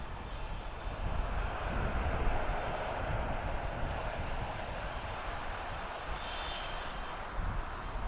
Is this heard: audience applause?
no